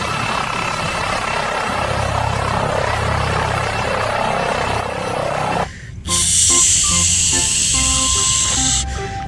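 A toy police helicopter whirs with a hissing rotor drone, then switches to a loud electronic siren-like tone with beeps.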